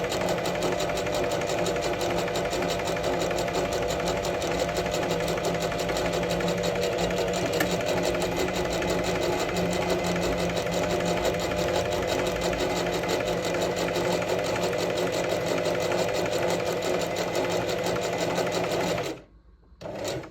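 A Singer 4423 sewing machine stitches a buttonhole, its rapid, even mechanical chatter running loud and unbroken for about nineteen seconds before stopping abruptly.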